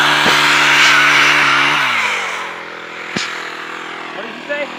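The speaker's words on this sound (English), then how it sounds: "the chainsaw's barely getting through it. And that's one thin piece of wood, y'all." A chainsaw revs loudly while cutting a thin piece of wood, its engine drone holding for a couple of seconds and then winding down to a fading idle, close by.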